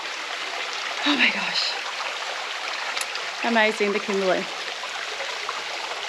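Steady broadband rush of a waterfall and flowing stream beside an infinity pool in the Kimberley, heard continuously near and moderately loud, with people talking briefly over it.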